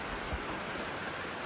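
Steady rain falls around a trail shelter on an Appalachian Trail thru-hike, a dense, even hiss of drops on the roof and ground, close and continuous with no voices.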